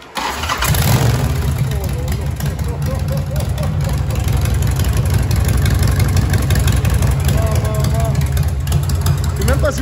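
A Harley-Davidson 883 motorcycle engine cranks and catches, then settles into a loud, steady, throbbing idle close by, with people talking over it.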